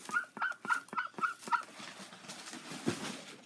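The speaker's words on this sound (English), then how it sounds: "I was in the shower and she was just quacking." A pet duck quacks loudly in a home, giving about six quick, evenly spaced calls close to the listener, then a lone lower call after a short pause.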